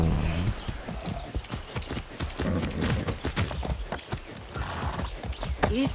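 Horse hooves clip-clop in a brisk, steady rhythm in the Far Cry 6 video game, close and fairly loud, with a brief whinny and game sounds around them.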